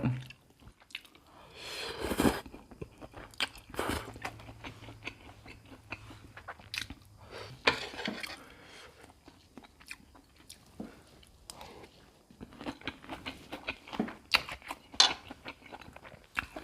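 Someone bites and chews delivered takeout food at home, with close, crunchy mouth sounds coming in irregular bursts and quieter pauses between bites.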